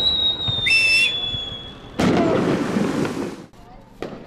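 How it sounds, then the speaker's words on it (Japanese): A whistling firework shrieks up, then a loud burst and crackling boom follow, with another sharp pop at the end, heard outdoors at a distance at night in Kushiro, Hokkaido, after a lantern release in strong wind. "サプライズの花火が打ち上げられました。"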